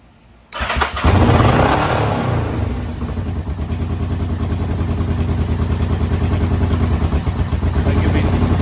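An old muscle bike engine starts up on choke after a carburetor rebuild, firing abruptly and then settling into a loud, steady, slightly uneven idle that runs on close by.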